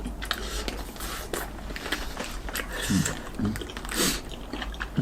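Close-up ASMR eating of a quail egg with spicy tteokbokki and chicken feet, with soft moist bites and chewing sounds spread through the clip under a steady room hiss.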